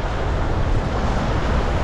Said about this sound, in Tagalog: Umaga pa lang may hangin na mga master.